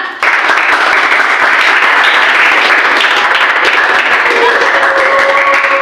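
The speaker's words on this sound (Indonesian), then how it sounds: "Oh, tepuk tangan untuk Bima." Classroom applause from high school students at an Islamic senior high school in Semarang, a steady dense patter of clapping that holds for several seconds with some voices mixed in.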